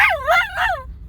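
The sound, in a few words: dog whining and yipping with excitement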